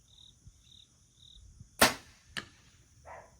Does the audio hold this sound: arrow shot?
yes